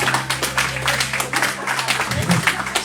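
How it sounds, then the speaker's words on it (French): A congregation at a church gathering claps and cheers, uneven bursts of hands rising and falling with voices mixed in over a low steady hum. "Est-ce qu'on peut applaudir le Seigneur?"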